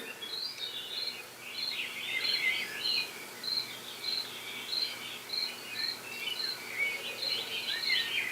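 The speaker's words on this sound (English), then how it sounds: "I'm going to flip it here and you'll start hearing crickets." Crickets chirp in repeated high pulsing bursts on a model railroad layout's sound system, steady and moderately quiet, over a soft low background hum.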